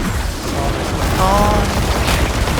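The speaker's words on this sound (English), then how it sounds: "A lot of Artificers lined up and explode." Artificer corpses exploding in a chain during a Pit 100 run in Diablo 4, giving a dense, continuous rumble of booms and bursts that stays loud through the whole stretch.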